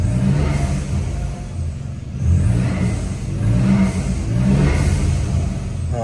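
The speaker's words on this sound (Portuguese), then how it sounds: "Vamos fazer o teste do escape do Polo" Exhaust roar of a VW Polo GT TSI with original intermediate muffler and closed exhaust diffuser, heard from inside the car: a steady low engine drone that swells as it accelerates, with no talk over it.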